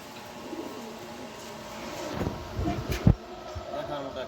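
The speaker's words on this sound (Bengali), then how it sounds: "এখানে এক পেয়ার মাক্সি কবুতর আছে, সেরকম এক পেয়ার মাক্সি কবুতর" Maxi pigeons, a pair, cooing softly with low throaty calls that swell near the end, one sharper burst standing out, over a steady background hum.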